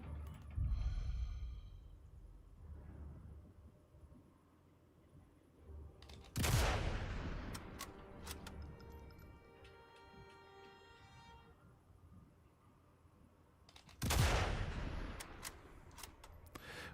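Sniper rifle shots and explosions in the video game Sniper Elite: Resistance, with two sharp, loud blasts about eight seconds apart, each followed by ringing debris and a fading tail over quiet, low ambience.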